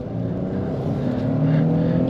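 A 2022 Nissan Frontier Pro-4X pickup with a V6 accelerating on the road, heard from inside as a steady engine drone that swells slightly louder toward the end.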